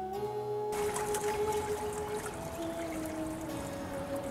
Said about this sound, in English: And make waterfalls into small ponds.